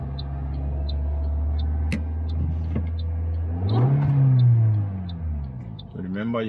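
A manual car's engine hums at idle, then revs up and swells louder for an uphill start before settling, with a voice speaking over it during a driving lesson.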